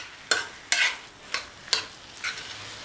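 A spoon scrapes aval puttu mixture in a pan as it is stirred: five distinct strokes at an uneven pace, each a short, crisp scrape with a faint sizzle between them and no talk.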